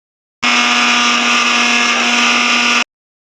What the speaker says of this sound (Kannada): ನೆಕ್ಸ್ಟ್ ಇದನ್ನು ರುಬ್ಕೊಳ್ಳೋಣ